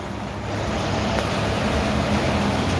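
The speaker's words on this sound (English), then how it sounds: "And here's a truck." A truck passes on a Hollywood street, a continuous loud engine and tyre rumble building slightly and staying close, mixed with general traffic noise and no speech.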